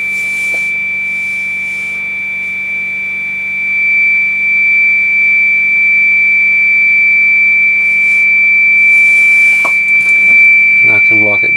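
Steady continuous tone from a Yaesu FT-101 series radio receiver, a strong sustained pitch held throughout at fairly high level, with faint background hiss and a few brief clicks near the end.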